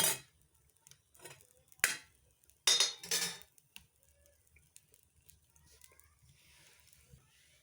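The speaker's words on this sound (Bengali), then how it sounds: "লবণ ভাজছি হ্যাঁ লবণ ভাজছি" Salt dry-roasting in a pan over a clay stove, heard as sporadic metallic clinks and short scraping strokes of a spatula, quiet gaps between them.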